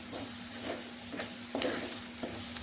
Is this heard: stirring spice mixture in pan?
yes